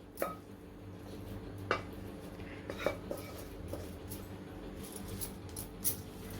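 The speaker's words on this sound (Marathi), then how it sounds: "गॅस बंद करून घेते आणि एका ताटामध्ये काढून घेते" Mango coconut barfi mixture being scraped from a pan onto a ghee-greased plate, soft intermittent taps and scrapes of a spoon against metal, quiet and sparse.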